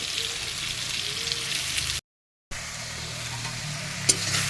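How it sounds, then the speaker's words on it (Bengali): Potato pieces frying in hot oil in a pan, a steady close sizzle with light stirring, broken by a short gap and a small clink near the end. "এই আলুটাও লাল লাল করে ভেজে নেব"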